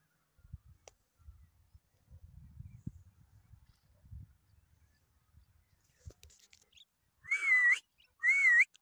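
Two short, loud, warbling whistles from a person trying to catch the attention of a grazing horse on a steep mountain slope in Kyrgyzstan, following soft footsteps, rustling and low outdoor noise.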